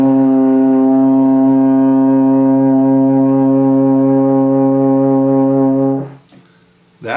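A baritone horn holds a single steady C fingered with valves 1 and 3, loud and close for about six seconds before cutting off into a short breathy pause.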